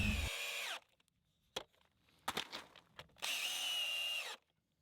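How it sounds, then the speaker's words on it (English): A power drill drives screws into wooden shed floor beams fixed with a lap joint, giving two loud whining bursts close by, with some knocks and handling clatter in the quiet gap between them. "I just used a lap joint and an excessive amount of screws to really secure both of these beams to one another"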